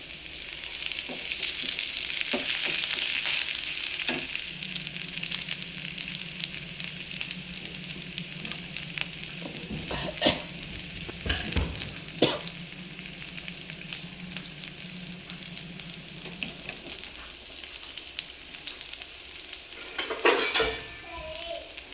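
Garlic, onion and green chillies frying in a pan for a cabbage fry, a steady close sizzle with scattered clinks and scrapes of a spoon stirring against the pan.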